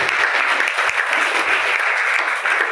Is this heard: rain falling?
no